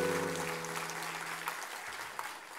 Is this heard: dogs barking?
no